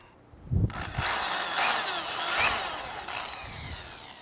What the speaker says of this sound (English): So let me go ahead and drill this out.